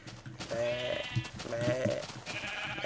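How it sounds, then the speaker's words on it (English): Sheep bleating in the video game Minecraft, two or three nasal wavering bleats in quick succession, clear and close, with faint game sounds in between. "I just want to see a sheep follow me"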